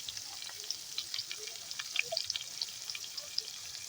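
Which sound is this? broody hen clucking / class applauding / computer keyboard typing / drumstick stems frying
drumstick stems frying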